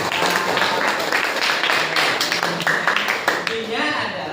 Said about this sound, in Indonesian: tepuk tangan untuk Kiren